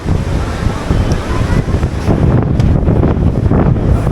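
Sea waves and strong wind roar continuously at Mandarmani beach, loud and close, with heavy wind buffeting the microphone and surf washing throughout.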